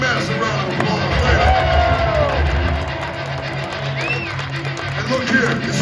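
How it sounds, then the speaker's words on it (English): A large stadium concert crowd at a show at Hershey Park Stadium roars with cheers, whoops and yells, a loud sustained wall of distant noise with scattered shouts rising above it. "Give them both a motherfucking massive round of applause"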